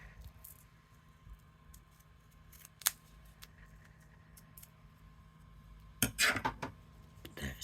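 Scissors cutting paper for handmade paper flowers, quiet crisp snips and rustling with a louder burst of cutting toward the end, no speech.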